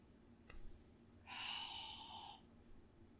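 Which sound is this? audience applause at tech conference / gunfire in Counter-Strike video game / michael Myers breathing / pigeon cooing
michael Myers breathing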